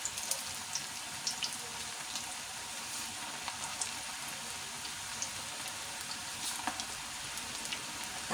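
Besan pakoras frying in hot oil make a dense, continuous sizzle with scattered crackles and pops, close and steady throughout with no talking.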